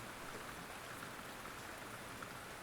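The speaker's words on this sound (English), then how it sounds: "The pitter-patter of rain on your roof." Steady rain patters on a roof, a soft, even hiss of countless drops with no breaks, faint and continuous, with no one speaking.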